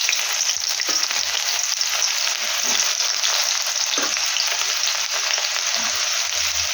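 Chopped garlic and onion frying in a pan of hot oil, a steady loud sizzle that runs unbroken throughout, with a few soft knocks beneath and no voices.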